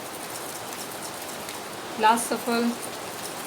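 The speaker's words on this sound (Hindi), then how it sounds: "बहुत तेज़ बारिश हो रही है हमारे यहाँ।" Heavy rain falls in a steady, dense hiss that fills the background, while a voice speaks briefly partway through.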